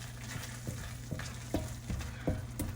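Spoon stirring Parmesan Reggiano and Italian parsley into risotto in a hot pan, with a soft continuous sizzle and rhythmic scraping strokes about every half second, close and fairly quiet.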